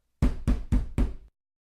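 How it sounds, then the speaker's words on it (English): Four heavy, evenly spaced thuds pound on a wooden door, loud and close, then silence. "ran to the Dandridge home and pounded on the door."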